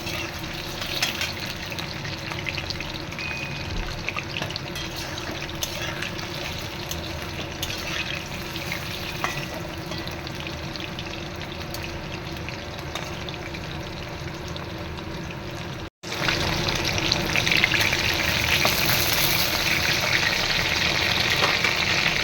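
Steady hissing and bubbling of chicken pakoras deep-frying in oil on low heat continues throughout, briefly cutting out and then returning slightly louder.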